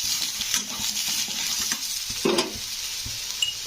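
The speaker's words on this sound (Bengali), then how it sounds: "এবারে ওই ডাঁটাগুলো দিয়ে দেবো এর মধ্যে। ডাঁটাগুলো একটু ভেজে নিতে হবে।" Neem-style stalks with eggplant sizzle and fry steadily in a hot pan while a spatula stirs through them, with a few scraping clatters near the middle and end.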